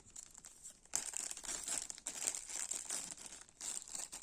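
Plastic packaging of an embroidery toolkit for cross-stitch crinkles and tears as it is opened up close, with steady crackling after a quiet start and no talk.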